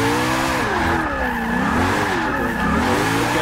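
A Koenigsegg One:1 slides in the racing game Forza 6, its tires squealing in a continuous, wavering screech over a loud engine drone throughout.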